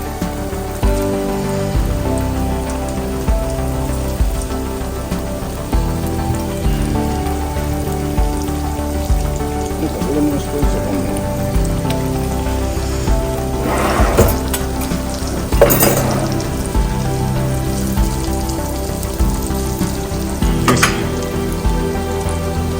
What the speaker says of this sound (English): let's go ahead and fry these up.